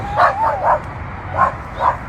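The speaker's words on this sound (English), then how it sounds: "there's some dogs behind me barking" Several dogs barking and yipping in short bursts, moderately close, five quick barks spread unevenly over a couple of seconds with low background noise.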